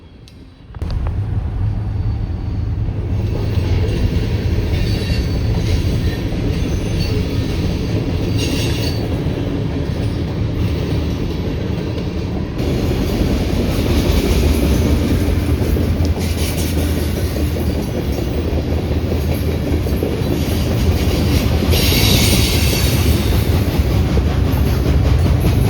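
A swift BNSF hopper train passes close by at Minot, with a loud continuous rumble and clattering wheels and intermittent squeals that build after a quiet start and then hold steady.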